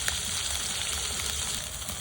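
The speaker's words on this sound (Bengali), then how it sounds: "4-5টা করে মাছ এইভাবে ভেজে নেব ভালো করে।" Pieces of pangas fish fry in hot oil in a pan, giving a dense, continuous sizzle that stays loud and even throughout, with no voices.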